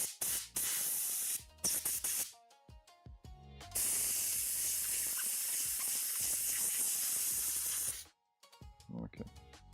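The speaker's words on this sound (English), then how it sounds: "Compressed air to the rescue!" Compressed air can spraying bursts of air to blow dust off model kit parts, a loud close hiss in several short blasts followed by one long sustained spray, with brief gaps and voice between.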